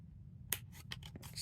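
Scissors snipping around an embossed die-cut paper butterfly card, a handful of quick, quiet crisp cuts close by in a still room.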